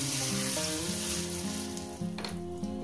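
Hot oil sizzles in a kadai, a steady bright crackling hiss that runs the whole time beneath a melodic background music track.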